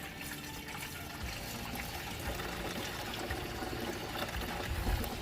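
Liquid pours steadily from a gallon jug with a continuous, close gurgling splash, rising slightly toward the end, and no voices are heard.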